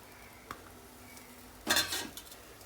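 Fish and chopped tomato are stirred in a pan, with a faint clink early on, then a loud burst of scraping and clattering that trails off into a couple of softer stirs.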